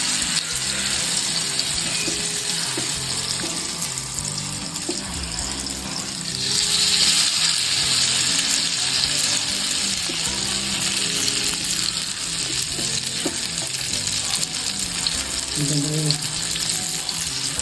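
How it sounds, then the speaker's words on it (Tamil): Masala-coated sankara fish frying in a little oil on a hot dosa tawa, a steady close sizzle throughout that swells louder partway through as the fish is added, with no talking. "தோசைக்கல் காஞ்சோடனே அதில் கொஞ்சம் போல் எண்ணெயை ஊற்றிக்கிட்டு இந்த மசாலாவோட ரெடி பண்ணி வச்சுருக்கோம்ல மீன் அதை ஒன்று ஊற்றணும்."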